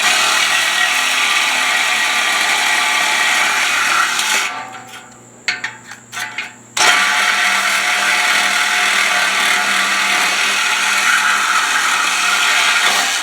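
A loud, continuous power tool grinds into a stock motorcycle exhaust, briefly dropping away into a few clanks and scrapes before cutting back in hard and steady, close and harsh with no speech.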